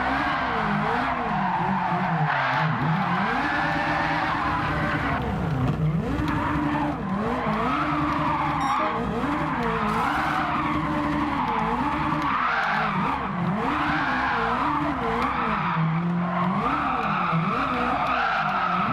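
In Gran Turismo 7, an Alfa Romeo 4C swapped with a 740hp Ferrari 458 engine drifts, its tires squealing continuously and loudly over a wavering, high-revving engine note for the whole stretch.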